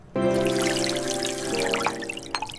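Tap water pouring steadily into a bathroom sink for face washing, close and continuous, ending with a few drips and splashes and no talk.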